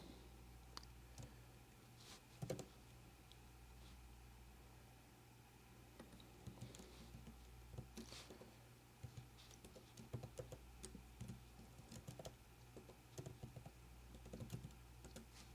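Steady typing on a computer keyboard, with irregular clusters of soft, close key clicks and taps over a quiet indoor background, and no talking.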